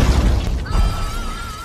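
A robot assistant blown up in a film, heard as one close boom with a shattering burst, followed by crackling debris and a thin high whine that lingers as the blast fades.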